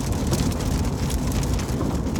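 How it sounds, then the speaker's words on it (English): Steady, loud rain falling continuously in a dense, even hiss, with no talking. "And it's raining"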